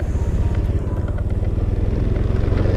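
Close, continuous scooter engine being throttled, a steady pulsing putter running loud throughout the short stretch with no talk.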